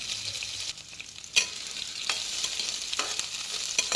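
Steady sizzling of potatoes frying in hot oil, broken by occasional sharp scrapes and clicks of stirring; no voices.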